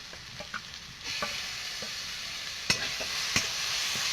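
Ground ginger, coriander, cumin and dried chilli pastes fried with onion, garlic paste and tomato, a soft sizzle that swells after a second, with several crisp spatula taps and scrapes against the pan.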